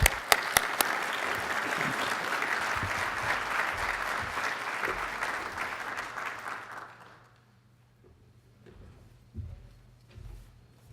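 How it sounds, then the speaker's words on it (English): Steady applause from an audience, sustained for several seconds before fading out into near silence, with a few faint thumps afterward. "if you give us a round of applause for those that have served."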